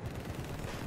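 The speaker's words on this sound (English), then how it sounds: "I need to get my aim back with the 30mm cannons" Rapid 30mm anti-air cannon fire in a video game: a dense, continuous rumble of fast booming shots, loud and low-heavy, running without pause.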